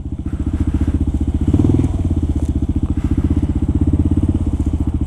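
A Kawasaki KLR motorcycle rolls along a road in Harlem, its single-cylinder engine thumping in a steady, rapid pulse close by with a brief surge partway through.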